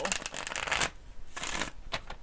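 Tarot cards are shuffled up close in quick riffling bursts, two longer runs and a short final flurry separated by brief pauses, with no talking.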